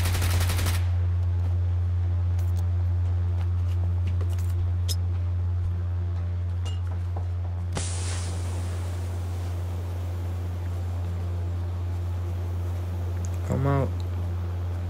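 Gunfire in the mobile battle royale shooter New State Mobile, with bursts of rapid automatic shots scattered through the clip under a steady low game hum, mostly moderate and somewhat distant.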